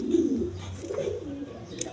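Kaldam pigeons with black tails, kept at a market stall with eggs, give repeated low throaty coos in short rolling phrases, close and clear, with a sharp tick near the end.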